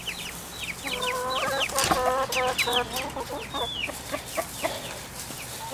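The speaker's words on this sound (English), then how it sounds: "I've got too many chickens" Several chickens clucking and squawking close by, a busy overlapping flock chatter with sharp rising calls throughout.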